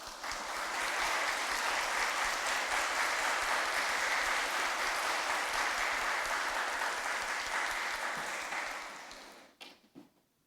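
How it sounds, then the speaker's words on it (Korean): A church congregation at a university chapel service applauds loudly and steadily as the pastor enters, a dense sustained wash of clapping that tapers off and ends with a few scattered claps. "여러분 우리 조예연 목사님 나오실 때 큰 박수로 환영해 주시면 감사하겠습니다."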